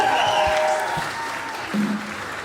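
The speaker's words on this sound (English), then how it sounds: "Make some noise for Mark" A concert audience applauds after a musical solo, with a brief burst of clapping and cheering at moderate distance that settles into a quieter, thinner tail.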